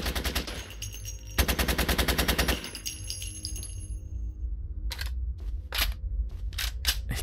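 Rapid machine gun fire in The Royal Marines Commando video game, long loud bursts of rattling shots, then a pause and several shorter separate bursts near the end.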